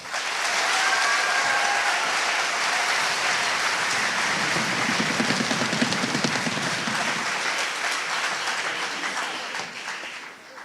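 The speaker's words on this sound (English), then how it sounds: "So please give them a round of applause." Loud, sustained applause from a large audience at a middle and high school all-county band concert, a dense wash of clapping that holds steady for several seconds before tapering off at the end.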